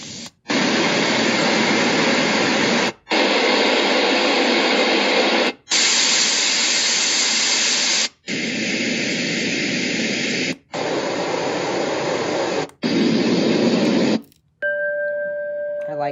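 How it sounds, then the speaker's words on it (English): Broadband white noise from a Heavtuen white noise machine, played in steady loud bursts separated by brief silent gaps as sounds are switched, ending on a quieter tonal sound. "This one's just white noise."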